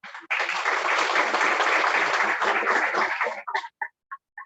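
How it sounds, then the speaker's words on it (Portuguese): Audience applause after a management lecture, a dense burst of clapping for about three seconds, then it cuts off sharply and a few scattered voices follow. "uma salva de palmas"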